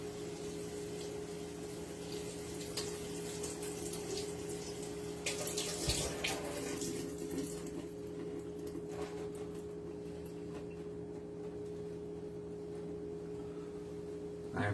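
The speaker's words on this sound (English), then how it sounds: "I'm just washing this off." Tap water runs steadily into a kitchen sink as food is rinsed under the faucet before cooking steak and potatoes, a continuous close hiss with a brief louder splash partway through, no talking.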